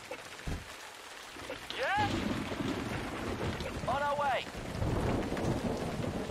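Emergency 4 video game thunderstorm after a lightning strike: steady rain and deep rumbling thunder fill the scene, with two short rising wailing tones cutting through midway.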